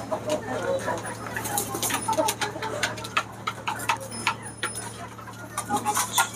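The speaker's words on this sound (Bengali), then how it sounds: "এই হচ্ছে আমার মুরগির পাল," A flock of domestic free-range chickens in a backyard pen clucks and calls continuously up close, with overlapping chatter and brief louder squawks.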